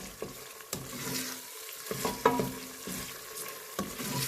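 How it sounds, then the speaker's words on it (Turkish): Fresh green beans are stir-fried with tomato paste in a pan, giving close, crackling sizzles broken by repeated scraping stirs at a loose, regular rhythm, with no talking. "Salçanın kokusu gidene kadar güzelce kavuruyoruz."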